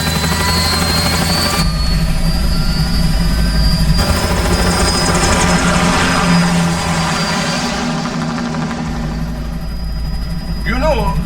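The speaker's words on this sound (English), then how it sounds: "Commencing takeoff in semi-auto mode." Aircraft engine roars steadily through a takeoff in the Metal Gear Rising video game, a loud sustained drone with a high whine throughout, while voices speak over it.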